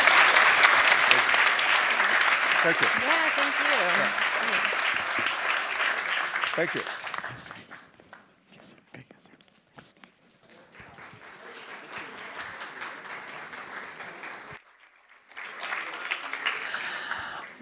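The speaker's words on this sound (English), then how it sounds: "Thanks so much to our panelists. Round of applause." Applause for panelists at the Brussels Forum: loud, dense clapping from the audience for several seconds, fading to quieter scattered clapping and a brief final burst, with a person speaking briefly over it.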